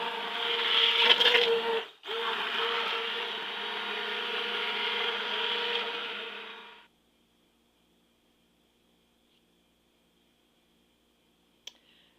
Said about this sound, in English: So go ahead and use your immersion blender.